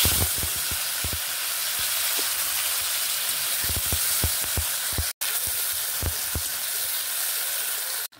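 Fennel seeds and a chili sizzle loudly in hot oil as a steady, dense frying hiss, punctuated by irregular low pops and spatters, with a brief dropout partway through.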